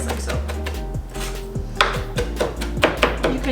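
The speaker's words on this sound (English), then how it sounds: "You can chop it up really fine" A knife chops cilantro on a cutting board for homemade salsa, with rapid, uneven close-up knocks of the blade against the board in quick bursts and no talking.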